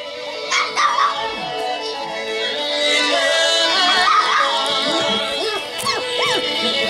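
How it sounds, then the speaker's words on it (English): Golden puppies yip and bark in short, scattered bursts, with whimpering squeals over a busy background of music and chatter, close by and fairly loud throughout. "What you over there barking at?"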